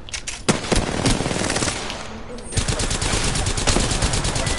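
Rapid automatic gunfire in Apex Legends crackles in dense bursts, loud and close, with a brief lull before another sustained stream of shots, and a voice talking underneath.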